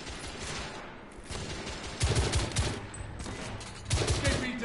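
Rifle fire in the video game The Order: 1886, several bursts of sharp shots ringing out amid dense background game noise, with two louder volleys standing out near the middle and end.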